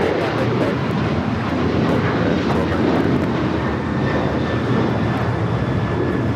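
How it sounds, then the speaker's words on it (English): A United Airlines Boeing 737-900ER takes off toward Houston Intercontinental, the jet producing a sustained, broad, loud roar that holds steady throughout, heard alone without talk. "This is United Airlines 1293 taking off to Houston Intercontinental on the 737-900 ER"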